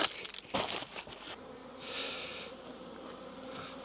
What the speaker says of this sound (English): a lot of bees on top